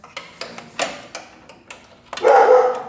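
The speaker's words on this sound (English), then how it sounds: "As you can see, Max is a big fan of dogs." A few short ticking taps are followed by a single loud, close dog bark that rings out at the end.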